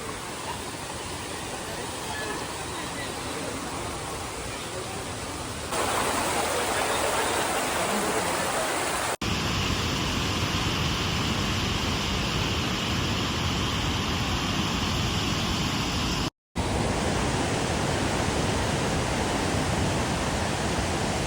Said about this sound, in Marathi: फेमस आहे लिंगमाला धबधबा